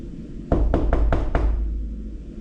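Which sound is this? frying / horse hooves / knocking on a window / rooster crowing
knocking on a window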